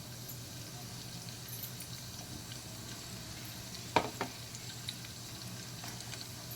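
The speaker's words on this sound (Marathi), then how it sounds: "कडीपत्ता घालते" Curry leaves go into a hot-oil tempering of cumin and mustard seeds, bringing a steady close sizzle with a few sharp spatters and scrapes partway through, and no voices.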